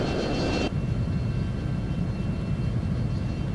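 An F-22 jet in the F22 Total Air War video game touches down. A loud, steady roaring engine rush drops off sharply after a moment into a lower continuous rumble.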